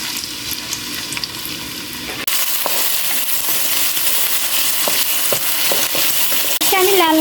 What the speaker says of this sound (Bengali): আমি লাল লাল করে ভেজে নিচ্ছি।